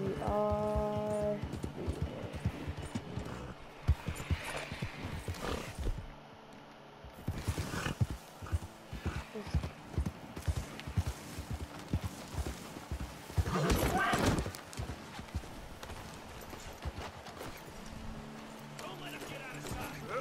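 A horse gallops in Red Dead Redemption 2, its hooves pounding in a rapid clip-clop rhythm, with a whinny, game sound effects and someone talking over the action.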